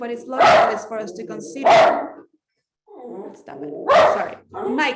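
A pet dog barks in bursts at a home during an online talk, several loud yaps spread across the moment and mixed in with a man's speech.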